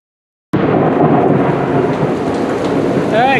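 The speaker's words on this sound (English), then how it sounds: "Now it is lightning like crazy out here." Heavy rain from a hurricane's outer bands bursts on suddenly and pours loudly and steadily, with thunder rumbling beneath and a brief chirping sound near the end.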